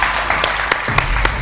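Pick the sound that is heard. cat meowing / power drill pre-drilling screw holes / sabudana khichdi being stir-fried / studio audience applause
studio audience applause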